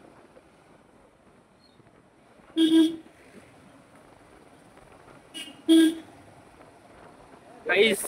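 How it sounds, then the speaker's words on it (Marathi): A car horn honks three short, loud blasts spaced a few seconds apart over wind noise on the microphone, with a brief spoken word in between. "जिथे दिसेल तिथे हॉर्न मारत निघणार आहे हा"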